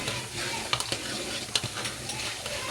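Hot ghee being stirred in a pan, soft sizzling with a few sharp scrapes and clinks of the spoon against the metal, steady and close.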